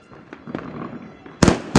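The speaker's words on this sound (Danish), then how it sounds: "Skal vi prøve at fyre den tredje en af med den der?" New Year's firework rocket set off outdoors: faint crackles and pops early on, then two sharp, loud bangs close together near the end, with no talk heard.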